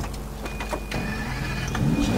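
Car taken and started in Sleeping Dogs: a vehicle door and mechanical clunks followed by an engine whirring up and idling, loud and close, with no talk.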